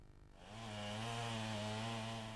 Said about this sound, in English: Men sawing away massive logs, black hole loaders clawing at electric poles.